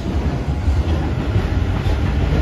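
A six-car Hanshin Railway train rolls through a sharp curve near a station, a steady close rumble of wheels and carriages with rhythmic clatter and no talking.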